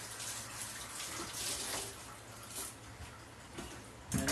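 Cilantro rinsed under a running kitchen tap, a steady broadband rush of flowing water lasting throughout at moderate level, with a brief louder splash near the end.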